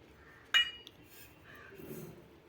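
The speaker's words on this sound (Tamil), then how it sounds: "தாளிக்கிறதுக்காக பாத்திரம் வச்சுருக்கேன்" A single sharp metallic clink of a pan being set down on a stove, followed by a soft scrape and quiet kitchen rustling.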